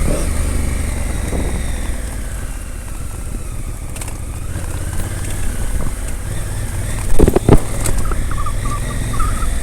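A Honda Africa Twin 1100cc motorcycle being ridden in Manang, Khangsar, its engine a loud continuous drone with wind rumble and a brief clatter of shifting or bumps late on.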